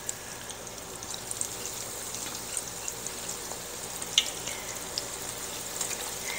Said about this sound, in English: And let them fry. Don't overcrowd your skillet